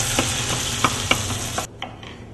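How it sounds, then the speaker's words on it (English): Onion and garlic sizzle steadily while stir-frying in a hot pan as a utensil scrapes and taps irregularly; the sizzle cuts out abruptly near the end. "Let's start frying."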